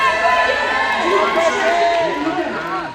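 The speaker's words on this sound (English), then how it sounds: "So let's cheer on Franklin." Children and an audience shout and cheer for Franklin in a lively keynote crowd, voices overlapping in rising calls and excited whoops.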